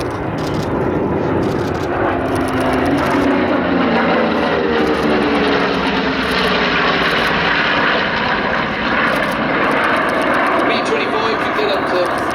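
A B-25 Mitchell bomber flies past at the Sywell airshow, a loud, steady propeller-engine drone that holds for the whole stretch with a slowly shifting pitch, while a voice talks over it.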